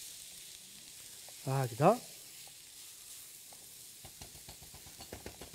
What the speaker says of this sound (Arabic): ونقلي هذا اللحم مع البصل هكذا بهذه الطريقه